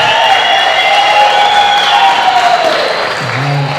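Wedding guests applaud and cheer after a toast, a dense, steady wash of clapping from a crowd with a few voices rising near the end.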